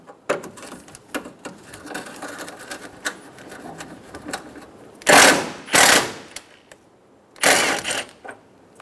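Mechanical clicking and ratcheting as a 12mm socket wrench loosens radiator bracket bolts on a 2010-2014 Subaru Outback, with scattered light ticks and two louder bursts of rapid ratcheting close by.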